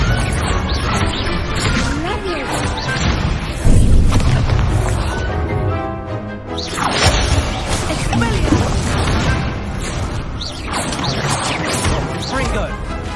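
Confringo fire spells burst in Hogwarts Legacy with loud, repeated crashing booms over a dense, continuous wash of game noise, and blasts land every few seconds.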